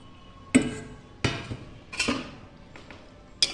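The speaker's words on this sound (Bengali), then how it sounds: "হালকা করে নেড়ে নেব।" Fried eggplant and fried puti fish are added to a pan of spicy curry and gently stirred. A utensil knocks against the pan in four or five distinct, fairly loud clanks spaced about a second apart, with a quieter tap between them.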